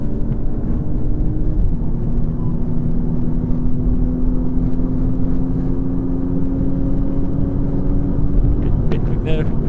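A race car driven on a track, its engine a steady close-up drone with a sustained tone, holding throughout and shifting slightly near the end.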